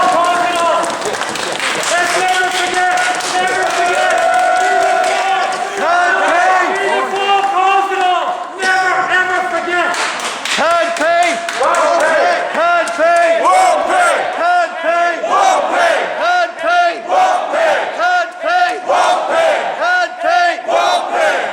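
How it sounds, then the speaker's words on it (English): A crowd of protesters at a household tax campaign rally in Galway claps and cheers loudly and continuously, the dense noise of many voices and hands sustained throughout with shouts rising over it. "Can you please give him a round of applause for coming out?"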